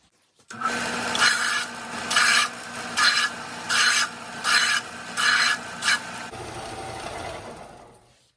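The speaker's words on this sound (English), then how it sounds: "Then I'm gonna go over here and sand it smooth." Oak from a charred whiskey barrel being sanded smooth, a steady raspy abrasive scrubbing in about six distinct bursts with brief pauses between them, then a quieter continuous rub at the end, close and loud with no talking.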